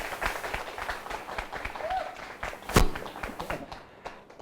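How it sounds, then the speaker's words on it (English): Wedding guests at a stables bar ceremony clapping to welcome the couple, scattered hand claps mixed with crowd murmur and a few sharper taps, fading toward the end. "With a round of applause, please make them feel very welcome."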